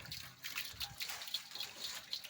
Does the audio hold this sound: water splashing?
yes